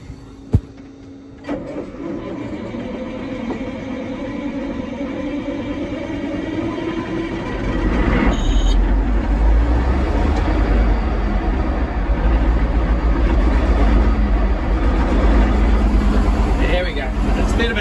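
An old tractor engine is cranked into life on a chilly morning, a deep steady rumble rising about halfway through and holding as a loud, continuous idle.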